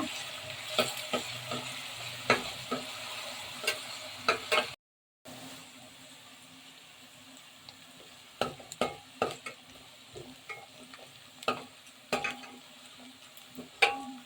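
Chopped onions fry in a pan for chana masala with a soft, steady sizzle and repeated sharp clicks and scrapes of a spoon stirring against the pan. A brief silent gap falls near the middle, and no one speaks.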